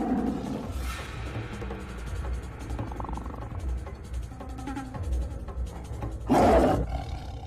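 A tiger roars in an action film scene, a loud raspy roar rising near the end over a dense rumbling music and effects bed.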